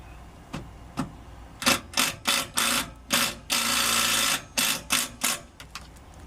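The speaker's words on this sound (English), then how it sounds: "Let's get these screws in here." Power drill driving big sheet metal screws into a Valterra EZ-Hose RV sewer hose carrier, a series of loud whirring bursts of varying length with short pauses between, close up and with no talk.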